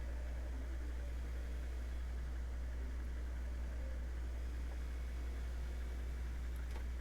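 A car engine hums and drones in the racing game Automobilista, a steady, fairly quiet mechanical tone with a low rumble underneath and no change in pitch throughout.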